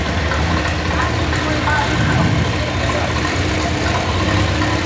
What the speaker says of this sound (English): Alrighty, on the big D21 Allis Chalmers.